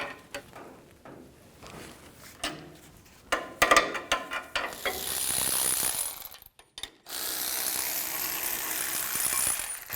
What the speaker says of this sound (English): Now use an 18mm socket and take these two bolts out.